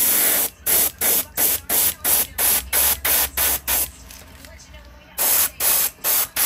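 An airbrush sprays paint onto a custom fishing lure in short, evenly spaced bursts of loud close hiss, about a dozen in a steady rhythm with a brief pause before three more.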